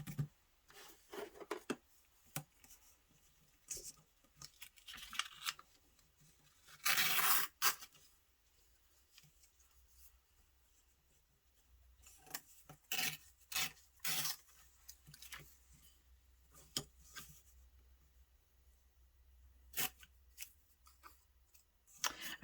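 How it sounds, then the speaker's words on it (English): Scissors snip out a small paper butterfly in quiet, close, irregular cuts and rustles, with one louder burst of paper handling partway through. "let's just cut out this cute little"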